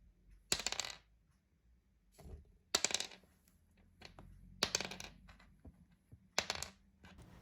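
Several sharp clattering drops of small homemade solid plastic dice onto a table, four or five distinct rattling bursts with quiet gaps between, close by.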